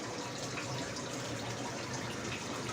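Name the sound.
aquarium air diffuser bubbling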